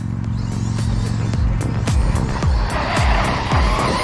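A Traxxas XRT RC car drives hard and drifts around a corner outdoors near an industrial unit, its high-pitched electric motor whining and revving in repeated surges with tyre scrabbling, loud and close throughout.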